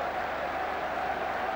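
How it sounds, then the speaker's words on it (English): Football supporters applauding at Bolton Wanderers' ground after the Bolton versus Southampton match, a steady, dense wash of clapping from a large crowd that holds unbroken, at an even level throughout and somewhat distant. "Just look at the applause and the relief"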